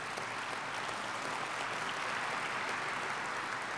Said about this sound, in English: And this applause, by the way, was for the men and women of the Long Beach Convention Center Pacific Ballroom